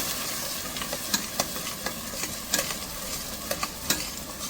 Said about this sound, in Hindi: अब थोड़ा सा ये भूनूंगी और फिर इसके साथ मटन भी भूनूंगी और नमक के साथ